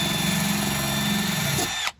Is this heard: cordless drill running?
yes